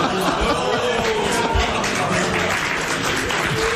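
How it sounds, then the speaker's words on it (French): Studio audience applause at a French television show, a dense steady wash of clapping sustained throughout at close range with some crowd murmur mixed in. "C'est un nouveau, merci de l'applaudir."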